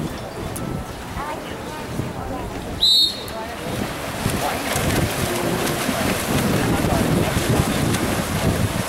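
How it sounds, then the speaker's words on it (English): Wind buffeting a microphone outdoors at a Friday high school football game, Valley Christian against the AW Falcons, as a steady rumbling rush that grows stronger toward the end, with a brief sharp whistle-like tone near the middle. "Oh, the wind."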